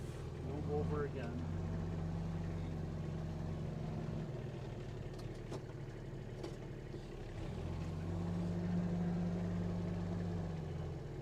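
Low engine hum of a Kubota four-wheel drive utility vehicle pushing and back-dragging snow, a steady idle-like drone with shifting tones and a few faint clanks, moderately quiet and continuous.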